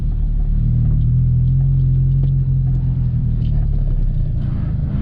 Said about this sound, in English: Now the car starts moving, now you can let go